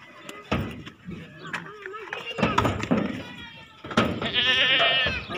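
Goats, a lot of castrated male goats brought to Lahore by cargo for vaccination, bleat in wavering cries amid people talking, door knocks and handling noises, with a louder, longer bleat near the end.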